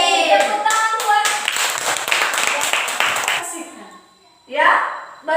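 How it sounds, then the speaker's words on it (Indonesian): Classroom applause for students, a few seconds of brisk hand clapping that fades out, followed by a short burst of talking. "Tepuk tangan buat."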